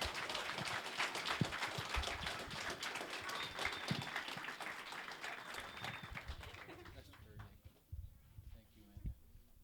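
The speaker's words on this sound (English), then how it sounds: "So give a round of applause to Amanda." An audience at a political solidarity gathering applauds, a dense wash of many hands clapping that holds steady before thinning out toward the end.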